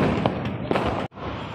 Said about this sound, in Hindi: यार पटाखा फूटते जो फूट रहे